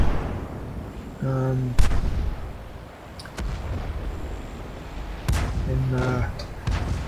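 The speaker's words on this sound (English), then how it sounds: "takes a couple of shots at him" World of Tanks tank cannons fire in two heavy booming blasts several seconds apart, each followed by a short metallic reload chime, over a low rumbling battlefield backdrop.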